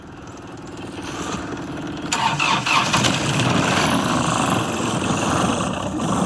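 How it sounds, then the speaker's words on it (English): A cold 25 horsepower mechanical-injection diesel engine cranks after glow plug heating, then catches and settles into a loud, rough, steady running clatter, heard up close with no talking. "I turn the key, let the glow plug cycle"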